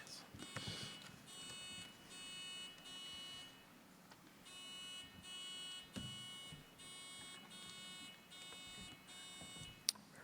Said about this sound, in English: Let's start with a buzzer check.